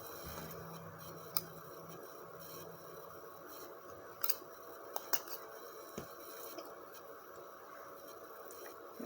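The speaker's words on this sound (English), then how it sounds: "cutting pipe cleaners can be a little bit tricky sometimes" Scissors snip through pipe cleaners while a small bubble-blower frame is made at home, giving a few faint, isolated clicks spread over a quiet, hissy background with no talking.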